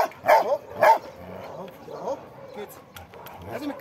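A guard dog barks and yelps in short bursts during an attack, with people talking and shouting around it.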